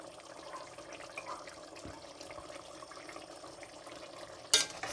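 Masala chicken with salt and a piece of jaggery being stirred in a kadai, faint scraping and wet shuffling at low volume, ending in a brief louder clatter.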